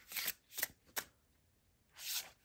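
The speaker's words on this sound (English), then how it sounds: "we have this deck, which is next, and I'm going to pull 3 cards from it" Tarot cards pulled one at a time from a deck during a pick-a-pile reading: three quick papery swipes spaced evenly apart, then a pause and a longer, softer slide, close and quiet with no talking.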